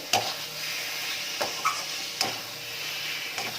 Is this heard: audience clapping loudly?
no